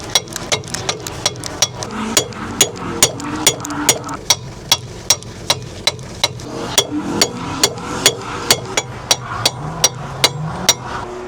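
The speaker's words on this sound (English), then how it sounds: "I might need to use a hammer just for 30 seconds" Sharp hammer blows strike steadily, roughly two per second, loud and close, while working on a repair among piles of tyres; a low background murmur sits under the metallic impacts.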